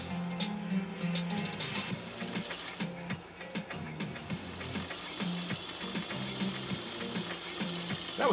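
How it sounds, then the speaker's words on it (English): A post-WWII Japanese Dressmaker sewing machine winds a bobbin, giving a steady close mechanical whir with ratcheting, geared clicking that runs continuously, with brief pauses and speed changes. "Winding a bobbin shouldn't be that difficult."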